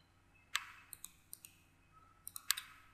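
Sharp, quiet computer mouse clicks while programming PLC ladder logic in WinProLadder software, about nine dry clicks in irregular groups, some in quick pairs, over a faint room hum with no talking.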